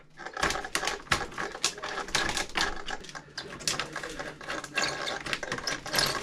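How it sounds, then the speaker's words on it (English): A Traxxas UDR RC truck's rear end makes a rapid, dense run of mechanical clicking and rattling, continuous and fairly close, with no speech over it. "The rear end started clicking."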